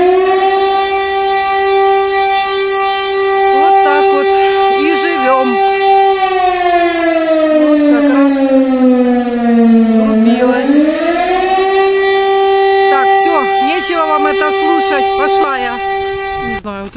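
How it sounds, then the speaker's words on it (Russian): A loud civil defense siren wails steadily, its pitch dipping and rising again, with scattered clatter and voices around it. "Это тут у меня вот кричит сирена."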